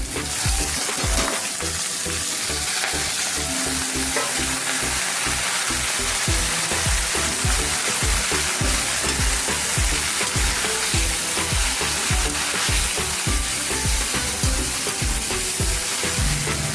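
Cluster beans (gavar) fry in a hot pan with a continuous crackling sizzle, dense and even throughout, with no talking.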